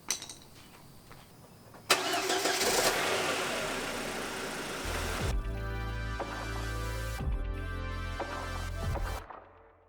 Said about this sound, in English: all I'm going to do now is start the car up and see if the wheels clear these pieces when I turn them